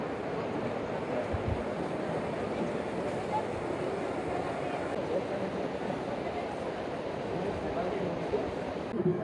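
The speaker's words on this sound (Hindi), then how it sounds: "और ये रही भाई अलकनंदा नदी।" The Alaknanda river near Badrinath rushes steadily, a loud, continuous broadband roar of flowing water that holds unbroken for the whole stretch.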